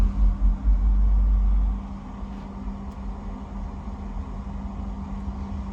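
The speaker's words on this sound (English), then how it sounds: "furnace just lit" A heating furnace in a DIY overland camper lights up with a brief loud low rumble, then settles into a steady, fainter droning hum with a constant tone running alone.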